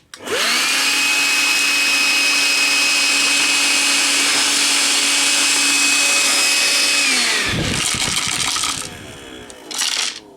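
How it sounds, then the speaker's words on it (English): A Milwaukee M12 Fuel cordless vacuum spins up with a sharp whirr, then holds a loud, steady high-pitched whine for about seven seconds before winding down, followed by clattering handling noises and a brief burst. "Little Milwaukee M12 non-fool."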